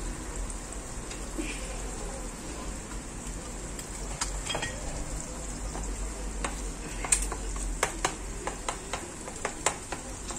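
Egg whites sizzle steadily in a hot pan, a constant fizzing hiss with scattered sharp pops and ticks growing more frequent toward the end.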